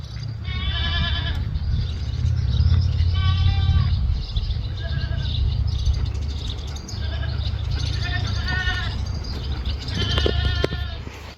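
Goats in a small red barn bleat loudly in repeated bursts, several animals calling one after another over a low rumbling background.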